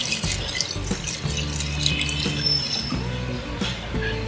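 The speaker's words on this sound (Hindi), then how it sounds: "अब हमने बोल में बर्फ़ डाल दी और इसमें हम फालसे का जूस डाल देंगे।" Falsa juice is poured into a bowl of ice, making a steady close splashing trickle that keeps going for a few seconds.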